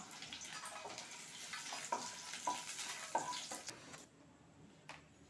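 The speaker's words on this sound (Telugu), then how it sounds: "అలాగే పచ్చిమిర్చి వేగాయి" Green chillies fry in oil in a pan, a soft, low-level sizzle with a few sharp clinks of a utensil, before the sound drops to quiet near the end.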